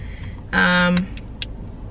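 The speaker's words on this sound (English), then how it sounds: "Who's honking at me?" A single car horn gives one sharp, buzzy blast lasting about half a second. It sounds at moderate distance in Los Angeles traffic, heard from inside a car against low road rumble.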